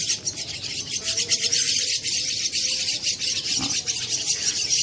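A black-winged myna chick calls with quick, repeated high chirps while being hand-fed, close and steady throughout with no talk.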